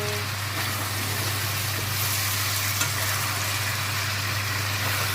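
Eggplant frying in a pan gives a steady, close sizzle that holds evenly from start to finish, with a low constant hum running underneath and no voices.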